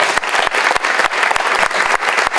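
A crowd applauds Principal Johnson and his staff at a credit union grand opening held at Putnam Vocational Technical High School: steady, dense clapping from many hands, close and loud throughout.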